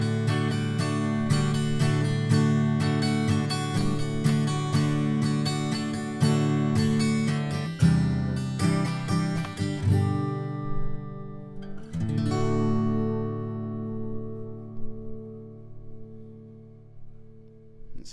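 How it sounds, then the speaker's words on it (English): A Rainsong Concert Hybrid acoustic guitar, plugged in, being strummed in steady rhythmic chords that ring out bright and full, then a final chord left to sustain and fade slowly. "strumming sounds like this"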